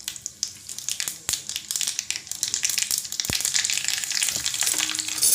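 Green chilies drop into a hot-oil tempering of mustard seeds, curry leaves and asafoetida, setting off a steady close sizzle with scattered sharp pops and crackles that build slightly over about five seconds.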